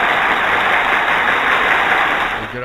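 An anchor windlass engine runs aboard a ship, a dense, loud, steady mechanical roar that holds evenly for a few seconds before easing slightly at the end.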